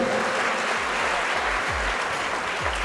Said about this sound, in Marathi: सन्माननीय वायको सरांसाठी एकदा जोरदार टाळ्या होत्या सर्वांनी